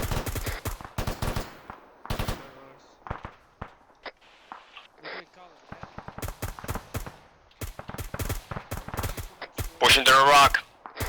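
Gunfire in a military shooter game, sharp rifle shots and short bursts cracking out irregularly throughout, some close and loud, others fainter, with a voice speaking between them.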